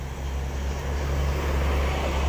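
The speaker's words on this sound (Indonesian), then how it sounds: "Aduh, banyak mobil lewat, ramai sekali sobat." Busy traffic on a red-earth road mixed with stones, with vehicles passing as a continuous, loud, low rumble and no voices.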